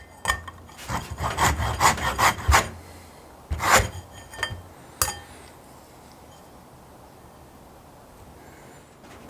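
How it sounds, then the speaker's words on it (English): Orange zest is grated into butter with a series of quick close rasping scrapes in bursts over the first few seconds, then a few isolated strokes, fading into quiet room tone. "we're just going to zest some orange into this butter"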